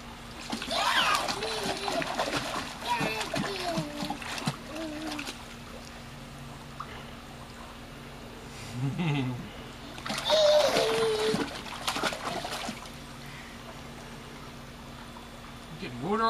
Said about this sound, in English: You splashing a lot, aren't you?